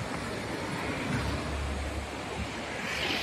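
Steady broadband rushing of the Lidder river in Kashmir on the way to Pahalgam, a continuous close roar of flowing water filling the whole clip with no break.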